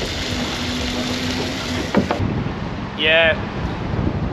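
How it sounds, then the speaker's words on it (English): Gusty wind buffets the microphone on a boat on Perth's Swan River, a broad rumbling roar that swells and eases throughout, with a brief spoken word partway through. "she is pretty windy out here"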